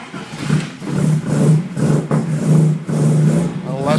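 A Mk 1 Mini Cooper S engine runs unevenly on choke at its first start-up, a loud, close, throbbing mid-pitched idle that surges and dips, with voices talking over it.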